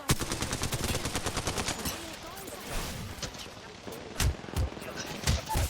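Rapid automatic gunfire from the Apex Legends video game rattles in dense bursts, then gives way to a few heavier single shots, with a player talking over the action.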